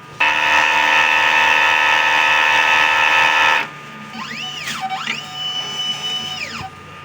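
A printer runs with a loud steady electronic whine and buzz for several seconds, then shifts to rising and falling motor tones as the print head carriage sweeps back and forth, close to the listener.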